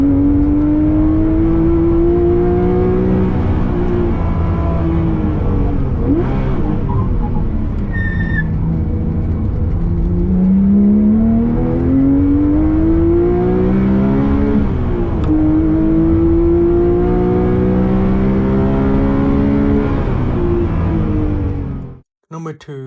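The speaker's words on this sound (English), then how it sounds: "the raw mechanical roar of the Mexico Flat 6 echoing behind your head" A Porsche 997.2 GT3 RS with a manual gearbox and flat-six engine roars loudly and continuously, its pitch climbing through each gear and dropping at every shift, then cutting off abruptly at the end.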